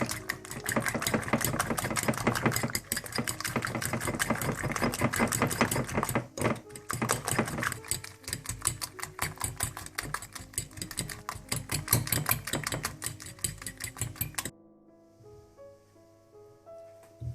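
Eggs for an omelette are whisked fast and continuously, a rapid rattling buzz of utensil against bowl that runs steadily for about fourteen seconds before stopping abruptly into quiet background music.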